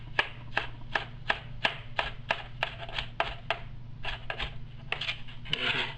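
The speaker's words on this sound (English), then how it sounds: "we're going to take the tomato and we're going to cut it into little strips" A knife slicing a tomato into little strips on a cutting board, a quick regular series of sharp chopping taps close by, pausing briefly and then resuming, with no talking.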